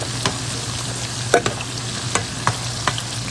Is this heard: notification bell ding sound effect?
no